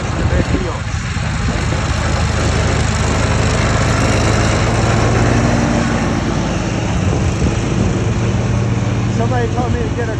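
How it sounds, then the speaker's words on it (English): A riding lawn mower drives through mud on an overgrown lawn by a natural spring, its engine droning loud and steady throughout while someone talks over it. "Watch how that mower gets right through that mud."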